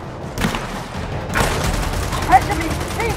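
Gunfire in the game Gears of War 4, with overlapping shots and booms in a busy battle mix while a voice talks over it.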